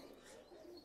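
Pigeons in a loft giving soft low cooing, faint and murmuring against a quiet background, ending in a short louder thump.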